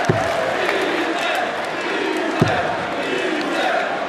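Shouts and a rumbling murmur rise from sections of a darts match crowd in a big hall, a steady close wash of voices with one sharp thump partway through.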